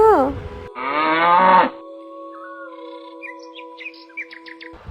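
A cartoon cow gives a single drawn-out moo lasting about a second, followed by a sustained tone and light, scattered bird chirps.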